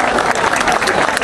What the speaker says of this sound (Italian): Vi facciamo un applauso?